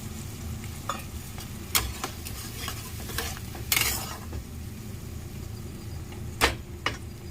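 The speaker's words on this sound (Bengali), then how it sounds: "দেখুন জাল উঠে গেছে মশলায় কষানো হচ্ছে" Spice paste and chopped tomatoes cooking down in a pan, a low steady sizzle with occasional sharp scrapes and clinks of a spatula against the metal, close and fairly quiet.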